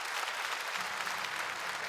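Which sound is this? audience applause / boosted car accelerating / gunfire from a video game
audience applause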